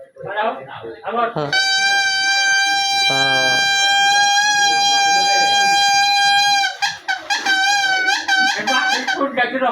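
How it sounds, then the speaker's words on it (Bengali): A whistle made from a banana leaf blown in a long, steady, piercing reedy tone, loud and close, with excited voices and laughter before and after it. "কলা পাতার বাসি বাজাও বাজাও বাজাও বাজাও"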